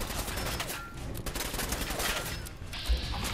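Gunfire from the video game Fallout 4, a rapid volley of shots packed densely across the clip, loud and continuous, with no clear talk over it.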